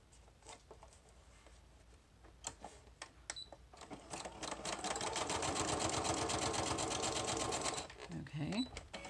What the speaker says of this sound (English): I'm going to sew along the top again with zigzag